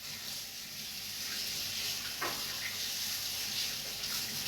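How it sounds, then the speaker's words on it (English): Tap water runs steadily into a kitchen sink as a spatula is rinsed, a soft continuous stream with a brief splash midway, moderately quiet and without talk. "Let me just rinse my spatula."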